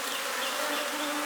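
A dense, steady buzz of many honeybees in a loaded hive box, loud and close, droning continuously without a break.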